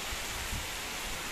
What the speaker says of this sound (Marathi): मागे बघू शकता पाऊस पडतोय फुल जोरात पाऊस आलाय